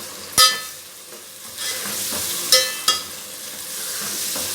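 Garlic and ginger fry light golden over medium heat in a pan for aloo methi sabzi, a bright steady sizzle marked by three sharp utensil clinks and a few softer scrapes, close and without speech.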